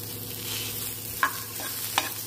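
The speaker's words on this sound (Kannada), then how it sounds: "ಜಸ್ಟ್ ಲೈಟಾಗಿ ಅದನ್ನು ಫ್ರೈ ಮಾಡ್ತಾ ಇದ್ದೀವಿ ಅಷ್ಟೇ" Sprouted green gram fries lightly in a pan over a low flame, a soft steady sizzle with two brief metallic taps of a spatula, close and without talking.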